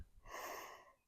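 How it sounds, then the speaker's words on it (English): A single heavy, breathy exhale after hard exertion outdoors on a spring campout, close and fairly quiet, with no talking. "I'm breathing pretty hard."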